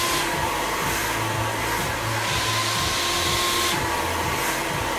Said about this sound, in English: always think about the direction of the dryer